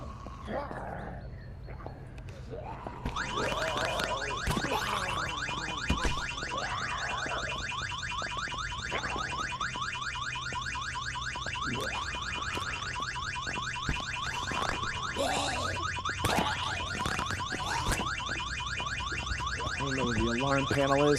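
A car alarm blares in the zombie survival video game VEIN, a loud, steady rapidly cycling electronic whoop that sounds continuously for most of the stretch, with people talking intermittently over it.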